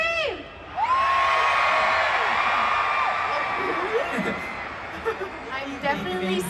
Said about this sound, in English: Definitely seeing some non-baby blinks screaming right now.